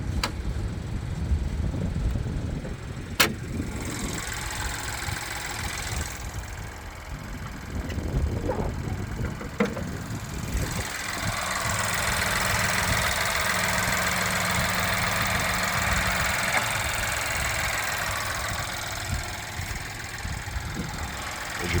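Idling GM 1.2-liter turbocharged three-cylinder engine in a 2024 Chevrolet Trax LT, heard from the open hood as a steady, slightly knocking mid-range hum with a few clanks and handling noises over it.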